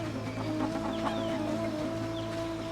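A chicken in the survival video game Soulmask clucks in short, faint bursts over a steady ambient game hum, with no talking.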